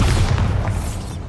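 A Bombarda spell explosion in the video game Hogwarts Legacy, a single loud, deep boom that rumbles and slowly fades over about a second.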